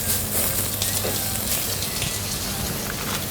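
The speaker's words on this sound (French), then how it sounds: "Là, je vais le mettre dans la casserole pour le jus, ça." Vegetables sizzle in a hot saucepan, producing a steady, close hiss and crackle that stays even throughout, with no talking.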